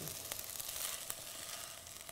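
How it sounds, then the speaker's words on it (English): Fried rice frying in a pan, giving a steady, soft sizzle with faint crackles throughout. "So fried rice is almost done."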